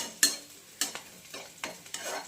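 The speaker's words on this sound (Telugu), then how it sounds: "సో ఉల్లిపాయలు అయితే చక్కగా ఫ్రై అయిపోయాయి అనమాట" Onions frying in a pan with a steady low sizzle, broken by about five sharp scraping stirs of a utensil against the pan at irregular intervals; no one talks.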